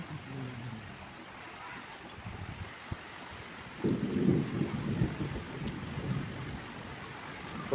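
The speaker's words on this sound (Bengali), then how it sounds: "প্রচন্ড মেঘ ডাকছে দেখতেছে।" Low thunder rumbles through a Kalbaishakhi storm, with lightning, wind and rain about to break; a faint early rumble gives way to a louder, longer roll in the second half over steady wind noise.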